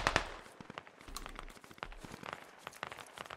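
Enemy gunfire in the SquadOps military shooter game, a scatter of sharp cracking shots and snaps at irregular intervals, fairly quiet and mixed with crunchy rustling, with no voices over it.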